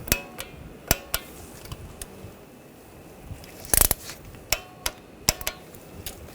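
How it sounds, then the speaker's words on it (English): Sharp, isolated metallic clicks and taps from tightening bolts with a torque wrench on a 2009-2017 Volkswagen Tiguan 2.0L engine, spaced irregularly, with a quick rattling burst partway through. "Now we're going to torque these bolts to 43 inch-pounds."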